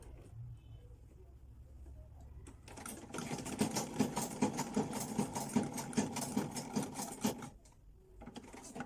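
A sewing machine stitches bias binding onto a garment neckline: quiet handling first, then a steady rapid mechanical chatter for several seconds before it stops, with a faint voice at the start.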